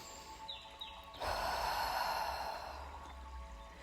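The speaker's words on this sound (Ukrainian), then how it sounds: "Вдих, видих." A single slow, audible breath during a guided meditation, a soft airy exhale that swells and fades, heard alone in a quiet room.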